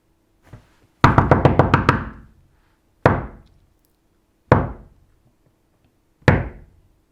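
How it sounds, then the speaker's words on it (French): Knuckles rap on a door in a quick burst of about seven knocks, then three separate single knocks spaced a second or two apart, crisp and close in a quiet room. "je frappe à une première porte"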